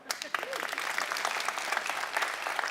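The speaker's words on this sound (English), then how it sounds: "You're not supposed to be clapping." Audience applause from a lecture crowd, dense steady clapping filling the room for the whole stretch, loud and close, with a voice briefly audible under it.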